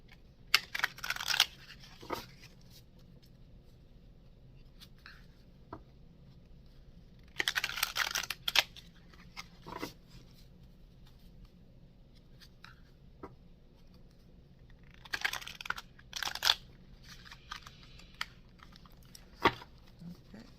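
Tarot cards shuffled by hand, quiet bursts of crisp riffling and flicking that come in several short clusters with pauses between, close to the microphone and with no talk.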